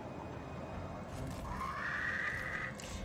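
Horse whinnying in the video game Total War: Warhammer 3, a drawn-out neigh rising over steady battle ambience and rushing background noise, with no talk over it.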